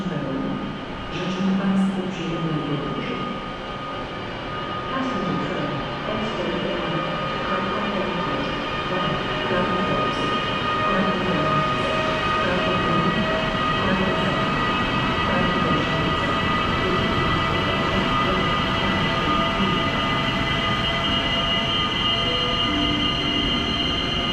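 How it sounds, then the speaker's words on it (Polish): A long passenger train, the Galicja with many carriages, pulls out of Kraków Główny station, steady rolling rumble with wheel squeal and metallic rail noise throughout, loud and close, a voice briefly heard underneath. "Rusza pociąg Galicja"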